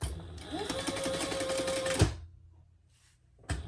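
A sewing machine runs fast and steady for about two seconds, stitching a seam on a fabric tulip pouch, then stops; after a quiet pause it starts again briefly, close and loud.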